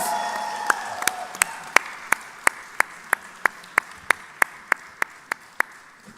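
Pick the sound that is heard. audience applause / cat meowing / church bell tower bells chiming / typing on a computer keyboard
audience applause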